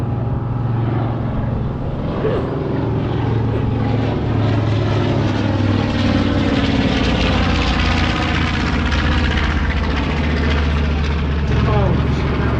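Twin propeller engines of a North American B-25J Mitchell bomber at an airshow, a loud, steady, continuous roar with throbbing propeller drone, close and unbroken throughout.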